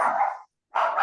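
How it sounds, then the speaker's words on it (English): A dog barks in two loud bursts close to the microphone, with a short silent gap between them. "Judy, did you have a question or just your dog barking?"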